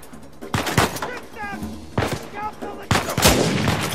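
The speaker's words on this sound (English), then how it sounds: "Who the fuck is shooting me?" Gunfire aimed at the player in a video game: several bursts of sharp shots in quick clusters, loud and close, with a voice briefly speaking between them.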